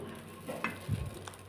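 Bread slices laid into a little oil on a hot tawa, giving a soft sizzle with a couple of brief scraping clinks from a utensil, close and fairly quiet.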